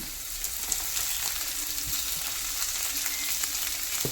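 Shallots, onion and green chillies fry in oil in a pan, giving a steady dense sizzle that runs loud and unbroken from start to finish, with no voices.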